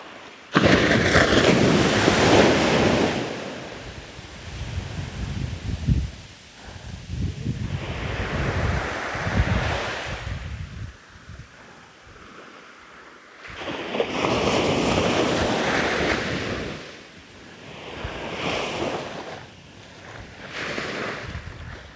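Surf breaks on an Australian beach in repeated loud surges, each crash swelling and fading into a quieter wash before the next, with wind buffeting the microphone and no voices.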